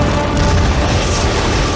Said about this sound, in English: I can hear those explosions pretty well considering I'm in space.